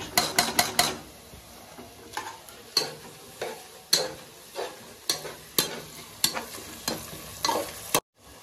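Ginger and garlic fry with onions in a pan, sizzling steadily close up while a spoon repeatedly stirs and scrapes against the metal in sharp, irregular clatters.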